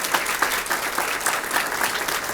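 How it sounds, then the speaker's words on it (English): Audience applause at a McAllen ISD Teacher of the Year event, honoring the district's aviation program: a dense, steady wash of many hands clapping at close range, sustained evenly throughout with no talk over it. "How about a round of applause for the McAllen ISD aviation program?"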